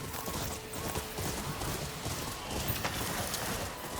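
A horse sprinting through water and white flowers in the video game Ghost of Yotei, its hooves making a steady rapid clip-clop over a dense, noisy background.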